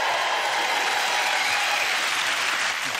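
A studio audience on a Valentine's Day dating show applauds and cheers loudly, a dense, even wash of clapping sustained throughout with no talk.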